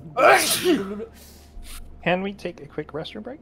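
A single loud, close human sneeze bursts out at the start. Afterward a voice speaks calmly.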